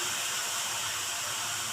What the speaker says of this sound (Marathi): छानपैकी डाळ परतून घेणार आहोत आपण